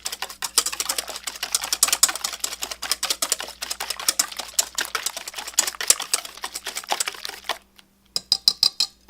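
Egg mixture for an omelette, with white cooking wine added, whisked briskly in a bowl: a fast, steady run of close, sharp clicking taps against the bowl that stops briefly, then resumes in a short burst.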